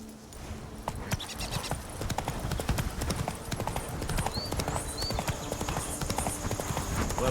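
Roach, the horse in The Witcher 3, gallops with a steady, rapid clip-clop of hooves that is close and continuous, with faint game ambience behind it.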